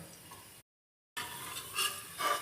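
Vermicelli roasting in ghee in a pressure cooker gives a soft, steady sizzle with occasional stirring scrapes, briefly cut off by a gap of silence before the frying resumes.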